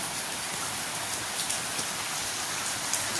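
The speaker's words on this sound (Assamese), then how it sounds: "বৰষুণ দি আছে বৰষুণ" Steady, dense rainfall patters continuously on a surface, close and even throughout.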